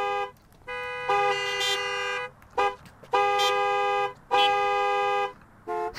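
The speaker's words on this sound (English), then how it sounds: "Honk, honk, honk all you want." Car horns honk in a series of loud, sustained blasts, some long and some short, separated by brief gaps over about six seconds with no talking.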